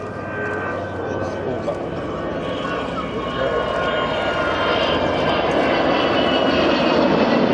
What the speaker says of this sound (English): Last time you may be hearing that roar of these wonderful Olympus engines.